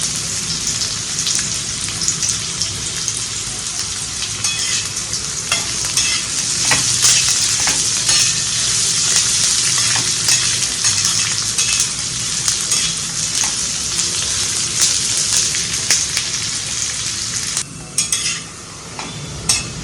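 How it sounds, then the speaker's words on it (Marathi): Ginger and garlic sizzle loudly and steadily in hot oil for Puneri misal, with a continuous frying hiss and occasional stirring scrapes throughout; no one speaks. "त्याच्यामध्ये आपण अद्रक लसूण घालणार आहोत."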